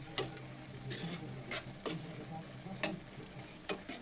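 A spoon stirring food in a cooking pan while a second packet is mixed in, soft scraping and occasional clinks over a steady low sizzle, close by with no talking.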